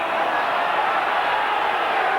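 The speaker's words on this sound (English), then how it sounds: "Crowd didn't like it" A large crowd at a 1993 Australian football match between Hawthorn and the Brisbane Bears lets out a steady, loud roar of disapproval that fills the whole moment without a break.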